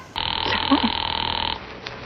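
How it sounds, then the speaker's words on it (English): A telephone rings once in a long buzzing tone while a call is placed to the police department in the radio play Sorry, Wrong Number, with a brief low voice sound partway through. "Ringing the police department."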